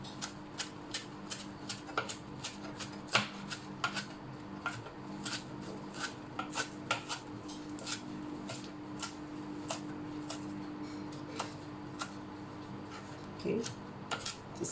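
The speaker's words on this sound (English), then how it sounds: "you just gather all these spinach and you chop them up" A knife chopping fresh spinach on a cutting board, a quick, irregular run of crisp taps, close but fairly quiet, under a faint steady kitchen hum.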